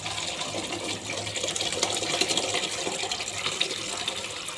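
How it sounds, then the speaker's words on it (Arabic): Boiled peas being drained, water pouring off steadily in a continuous broadband rush that swells slightly midway, close by with no talk. "ودلوقتي هنصفي البسله"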